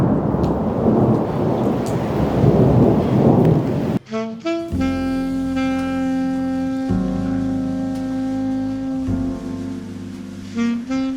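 Thunder from a lightning storm in Italy rumbles loudly and deeply over steady rain for about four seconds, then cuts abruptly to music.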